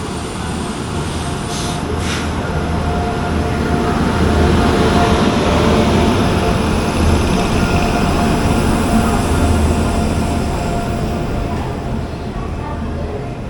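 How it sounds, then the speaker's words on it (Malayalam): The 22653 superfast express rumbles into Shoranur station, a loud, steady roar of wheels and rolling coaches sustained throughout, with a brief high squeal early on and no talking. "നമ്മുടെ വണ്ടി വരുന്നുണ്ട്."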